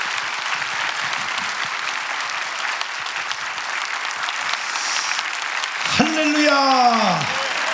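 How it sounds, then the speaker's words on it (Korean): A congregation at a Korean church dedication and ordination service gives a pastor a warm welcome with dense, sustained applause. Near the end a rising, wavering tone cuts across the clapping. "여러분 뜨거운 박수로"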